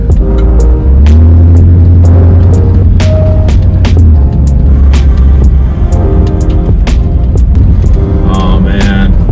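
A lowered 1967 Cadillac Sedan Deville driving, its engine a loud, low throbbing rumble with shifting hum tones, rattles and clicks scattered over the ride, close and continuous.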